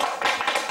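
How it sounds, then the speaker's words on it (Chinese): Applause from a lecture audience welcoming a speaker, a short burst of dense, steady clapping that fills the room without any voices. "大家给他一个掌声"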